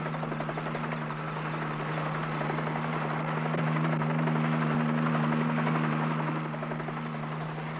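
A helicopter drones steadily overhead, its rotor thumping in a continuous loud chop with a low engine hum underneath.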